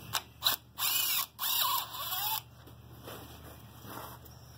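Ratcheting wrench clicks in quick bursts while the cylinder head comes off an IH B275 tractor, several loud, close runs of metallic clicking followed by quieter fiddling with the parts.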